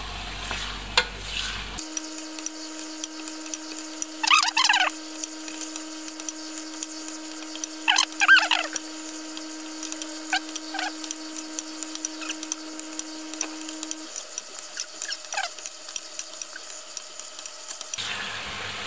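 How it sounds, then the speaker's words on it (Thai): Pork belly stir-fried in oil with fish sauce in a pan, with a steady low sizzle and intermittent scraping stirs, a few clearer spatula strokes standing out, close and alone without talk. "เดี๋ยวเราผัดไปเรื่อยๆครับ จนน้ำมันใสเลยครับ"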